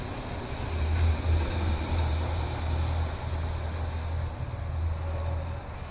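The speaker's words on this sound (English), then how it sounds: "Utility truck just passed by." A utility truck with a cherry picker rolls past on a city street in Fort Worth, a steady low engine rumble and road noise holding for several seconds at moderate distance.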